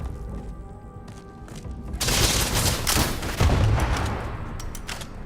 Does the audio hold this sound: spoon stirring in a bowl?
no